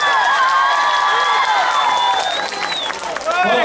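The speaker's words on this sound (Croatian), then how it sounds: "Može li još jači aplauz?" A festival crowd in Zenica applauds and cheers loudly, clapping blending into a continuous roar while a presenter's amplified voice talks over it.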